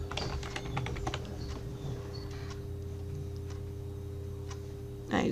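Text being typed on a computer keyboard in a run of quick, uneven clicks that slows and then stops, followed by a single louder click at the end, close and clear over a low steady hum.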